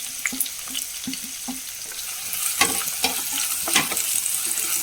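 Chopped shallots, green chilli, curry leaves, garlic and ginger hit a hot pan for an ayala (mackerel) curry, crackling and sizzling loudly up close, with stirring clatter and a few sharp pops.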